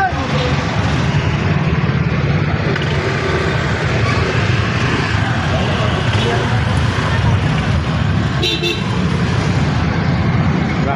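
Heavy road traffic in Manila, a dense continuous wash of engines and road noise with a brief horn toot near the end, people talking in the background throughout.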